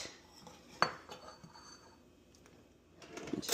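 A spoon clinks against a serving bowl while creamy roasted-garlic polenta is dished up, with one sharp, close knock followed by scattered soft scrapes and taps, and a brief clatter at the end.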